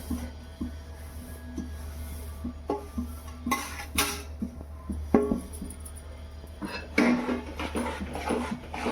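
A spoon stirs sesame seeds into hot jaggery syrup for tilgul laddoos, giving intermittent scraping clinks and taps against the pot at an uneven pace, moderately close, with no talking.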